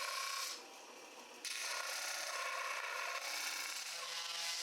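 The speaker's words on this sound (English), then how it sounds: "The squeeze out from the epoxy is removed at the disc sander." A disc sander grinds epoxy squeeze-out off a wooden bow limb, a steady close rasping hiss with a brief dip in pressure before the sanding resumes.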